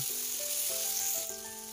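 Sambal spices fry with palm sugar in a pan for a Javanese sambal goreng. The sizzle is a soft, steady hiss, close and continuous, with faint tonal hum underneath and no talking.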